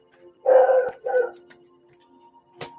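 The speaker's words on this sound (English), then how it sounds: "Stop barking, Thor." A dog barks twice in quick succession nearby, followed by quieter background noise and a brief sharp click.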